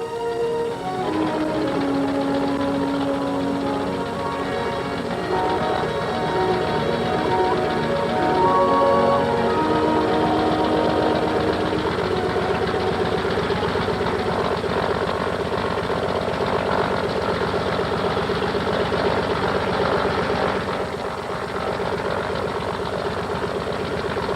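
A snow plane, an airplane fitted with skis, running its engine in a steady droning roar with a throbbing rumble, loud and close and holding level throughout without a break.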